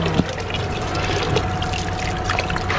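Steady trickle of running water splashing into a hand bath basin in snowy Sapporo, continuous and fairly loud, with faint background murmur.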